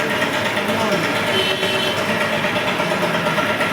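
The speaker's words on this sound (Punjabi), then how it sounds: "ਇਹਨੂੰ ਆਵਾਜ਼ ਆ ਇੰਜਣ ਦੀ ਆ ਰਹੀ ਹੈ" An engine runs nearby during the painting of a new trolley, giving a loud, steady, unbroken drone.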